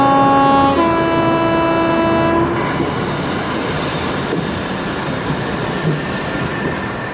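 Train passing close by at a station, a loud sustained horn blast first, then heavy rolling wheel noise and rumble that slowly fades, no speech.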